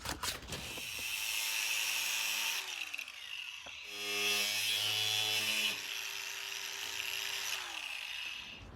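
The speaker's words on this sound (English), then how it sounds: "We are just going to cut off out this shape here from metal" A power tool cuts sheet metal for a front bulkhead footwell repair on a Mercedes R107. A loud, steady grinding whine runs throughout, shifting in pitch as the cut progresses, with brief dips between passes. No one speaks.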